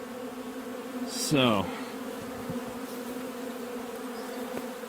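Honey bees buzz steadily at a hive entrance, a continuous low drone with one bee zipping close past, while someone speaks briefly.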